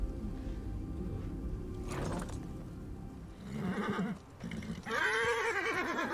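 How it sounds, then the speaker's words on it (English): A horse in a fantasy drama whinnies and neighs in alarm, rising sharply near the end over a busy background of clattering and rumbling scene sound. "The horse starts freaking out, you know, that you're in trouble."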